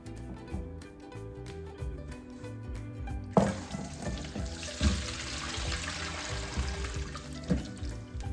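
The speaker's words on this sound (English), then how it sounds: "So let's pour the vinegar." Vinegar is poured out of a jar for homemade sweet pickles, a soft steady liquid pour that begins partway through and continues with faint splashes, quiet and close.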